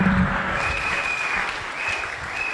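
A church congregation applauds and acclaims the Lord, with sustained, dense clapping filling the room and steady, loud cheering mixed in.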